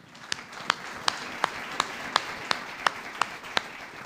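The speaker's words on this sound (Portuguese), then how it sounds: "Uma salva de palmas ao Espírito Santo" A church congregation claps in unison, giving about ten even, steady claps over a low background murmur.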